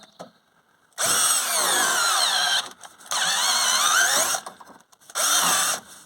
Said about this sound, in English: I'll go and get my drill out of the van and see if it works